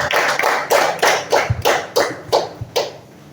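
A class of children claps hands in rhythm, about ten sharp, loud group claps in an even, counted pattern, close by with no talking.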